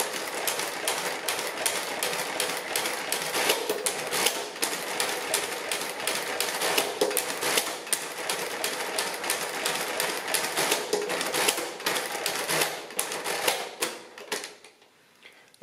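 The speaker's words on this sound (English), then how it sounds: "it subtracts, until it underflows, it corrects that and shifts the carriage." A Rheinmetall D IIa mechanical calculator clatters through a division, rapid rattling strokes as it subtracts repeatedly and shifts its carriage, loud and continuous before stopping abruptly near the end.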